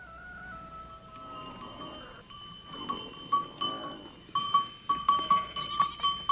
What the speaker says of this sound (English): yaks and goats are sent to stony pastures